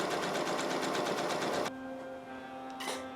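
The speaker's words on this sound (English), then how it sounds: "I'm stitching down the whole curve of the stand" A sewing machine runs fast and close while stitching down the curve of a shirt collar stand, a loud steady whir that stops abruptly, leaving a low hum and one brief final burst.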